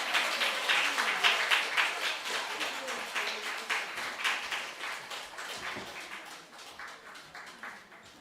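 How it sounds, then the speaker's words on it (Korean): Audience applause welcoming a speaker to the stage at a church family-themed sharing event, a steady wash of many hands clapping that holds for about eight seconds and slowly tapers. "우리 홍태성 효동을 큰 박수로 환영하시겠습니다"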